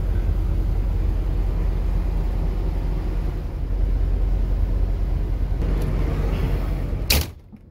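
A 2008 Beaver Marquis motorhome rolls forward with a steady, loud low rumble of engine and drivetrain that fills the whole stretch, ending in a brief knock and a sudden drop to quiet.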